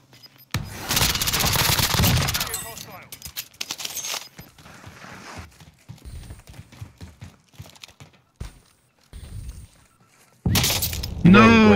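Bursts of gunfire in a Rebirth battle-royale video game, with loud rapid shots at the start and end and scattered sharper cracks in between, mixed with players talking.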